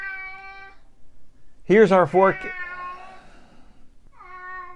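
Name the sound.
cat Mr. Panda meowing during weather forecast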